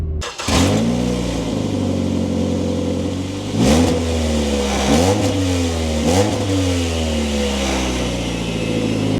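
A car engine with a newly fitted throaty exhaust idles, then revs up sharply several times in quick bursts, loud and close.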